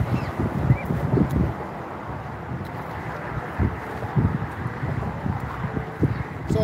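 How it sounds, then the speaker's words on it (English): Wind blows across Long Key Bridge during a fishing outing. Gusts buffet the microphone with low, uneven rumbling thumps over a constant breezy hiss. "it's a little windy over here."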